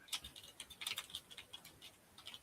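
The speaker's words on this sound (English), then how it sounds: "And I can hear Cash typing along, going, is Mike correct?" Quiet, irregular typing on a computer keyboard, with light clicking keystrokes in uneven bursts and short pauses, distant and soft with no speech.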